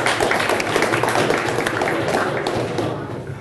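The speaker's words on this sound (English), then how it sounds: "Hold your applause to the end." Audience applause at a film festival lighting workshop, a dense steady wash of many hands clapping close by, slowly thinning toward the end.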